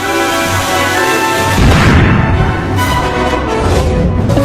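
A cartoon firecracker explodes with a loud boom partway through, followed by a dense, crackling rumble that lingers to the end.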